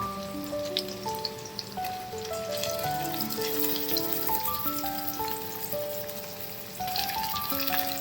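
Chicken mince hitting a pan of lightly fried onions gives a steady, soft sizzle and crackle throughout, sitting beneath a prominent melodic music track.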